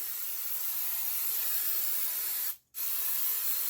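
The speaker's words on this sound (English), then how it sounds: "So I'm going to spray this well in here." A loud, close spray of flour cooking spray into a cake pan, hissing steadily for a few seconds, breaking off briefly, then hissing again.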